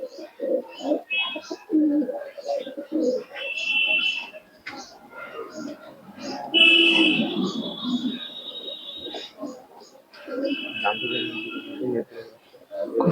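Young Napta pigeon squabs give soft, repeated cooing calls at close range, with short chirpy notes mixed in, while people talk nearby.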